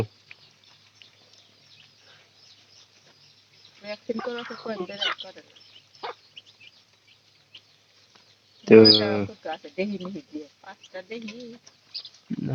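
Chickens cluck close by in short, scattered bursts, with quiet gaps between and a voice speaking now and then.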